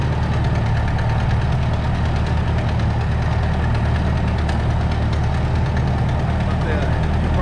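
A large fire truck engine idles loudly and close, with a rough, ticking pulse in its steady rumble from a blown exhaust manifold at cylinder number 4.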